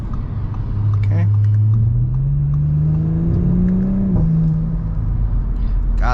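Tuned Audi B9 S4 accelerating hard from inside the cabin, engine rumble rising in pitch with a couple of quick, abrupt gear shifts, a close, loud drone throughout.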